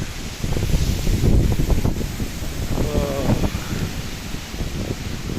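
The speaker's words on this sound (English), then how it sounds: "That wind." Wind blowing through an autumn garden of young trees, gusty rumbling buffets against the microphone with a steady hiss, and someone talks briefly over it.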